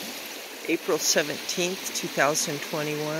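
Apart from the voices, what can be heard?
Bear River flowing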